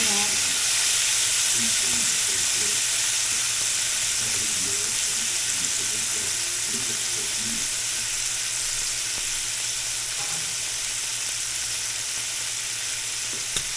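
Hot cooking oil spits and crackles in a pan under a steady loud sizzle and hiss that runs throughout, with brief pops near the start.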